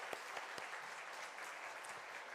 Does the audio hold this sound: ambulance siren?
no